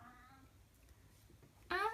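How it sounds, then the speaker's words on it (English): A pet cat meows once near the end, a short, clear call breaking through a quiet room with faint background sound beforehand. "sorry if you can hear my cat in the background, he talks a lot."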